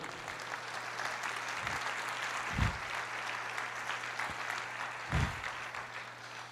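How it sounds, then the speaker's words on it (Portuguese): A church congregation applauding, a faint, steady patter of clapping with a couple of soft thumps, distant and low in level. "Aplauda ao Senhor"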